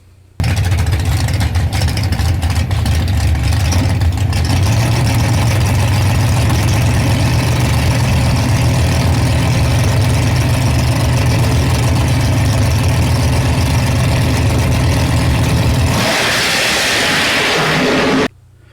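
A drag racing car fitted with 6 1/4 inch wheelie bars and a 4-link rear suspension roars loud and steady through a full run, then cuts off abruptly near the end, leaving a brief burst of wind-like noise.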